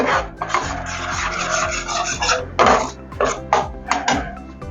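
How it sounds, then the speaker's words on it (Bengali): Spice masala with turmeric powder scraped and stirred in a pan, a steady rasping of spatula against metal with repeated strokes and bursts, close and fairly loud, no voices. "মশলাটা একটু ভাজতে হবে।"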